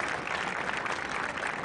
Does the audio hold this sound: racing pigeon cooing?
no